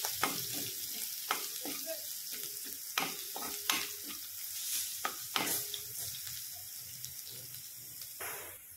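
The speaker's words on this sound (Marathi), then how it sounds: "लसूण छान लालसर झालेला आहे." Garlic fries in a pan for a shernya vegetable dish, with a close, steady sizzle broken by several sharp stirring scrapes and clatters of a spoon against the pan, and no talking.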